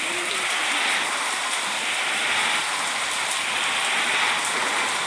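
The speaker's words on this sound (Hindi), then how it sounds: "वाओ, बारिश बहुत ज़्यादा" Heavy rain in a truck simulator game, a dense, steady roar of downpour that stays loud and even throughout with no voices.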